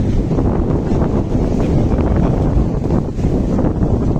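Steady wind noise buffets a sailboat in choppy, short waves, a constant loud rush with the boat's motion on the water underneath, no talk.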